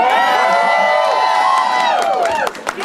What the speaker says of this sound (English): So can we give them a round of applause right now?